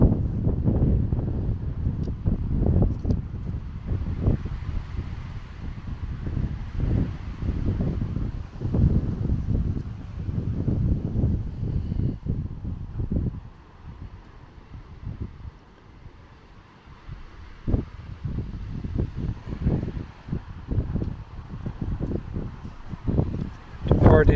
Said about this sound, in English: that wind is whipping today